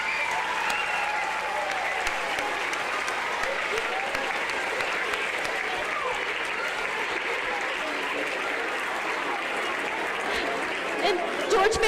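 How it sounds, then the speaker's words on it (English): A crowd at George Elementary's 25th anniversary celebration cheers and applauds continuously, with clapping mixed with excited voices and shouts from the gathered audience, holding steady for the whole stretch. "Let's just give them a big George Giant cheer."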